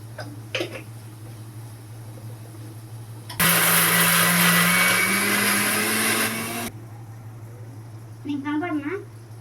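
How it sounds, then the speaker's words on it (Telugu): A kitchen mixer grinder whirs into a loud, steady electric roar while grinding spices and garlic with salt, runs for about three seconds, then cuts off abruptly, with brief clatter and faint voices before and after. "మిక్సీ వేసుకుంటున్నాను"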